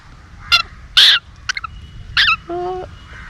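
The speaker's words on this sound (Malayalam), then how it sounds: "ഒരു കുയിലിന്റെ കുഞ്ഞിനെ കിട്ടി." A hungry young cuckoo chick gives a few loud, harsh calls in short bursts separated by quiet gaps, close to the listener.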